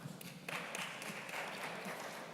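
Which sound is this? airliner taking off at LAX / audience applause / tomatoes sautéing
audience applause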